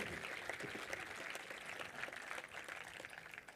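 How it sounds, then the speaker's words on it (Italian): Audience applause at the opening ceremony of the Venice boat show, a dense spread of clapping from many hands at moderate distance, steady across the whole stretch with slight swells. "e se lo merita l'applauso"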